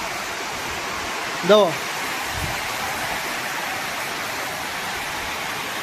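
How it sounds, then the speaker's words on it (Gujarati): Heavy monsoon downpour in a flooded village, a steady dense hiss of rain with water pouring off a rooftop terrace, continuous throughout; a brief voice cuts in once near the start. "આજે ધોધમાર વરસાદ છે"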